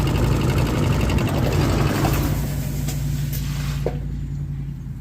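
A truck passes close by with a loud engine roar that holds steady and then fades away over a few seconds, and no one speaks.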